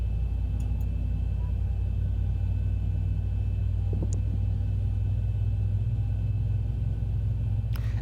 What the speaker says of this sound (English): start engines.